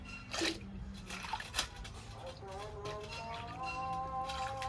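Winter vegetables, including beans, are rinsed by hand in water, giving close splashing and dripping with a few scattered clinks, moderately quiet and continuous.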